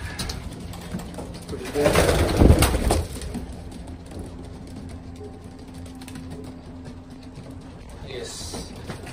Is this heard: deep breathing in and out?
no